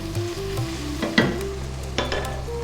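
Two cups of onion fry in hot oil, producing a moderate steady sizzle with a couple of clattering stirs of a utensil against the pan, heard up close with no talking.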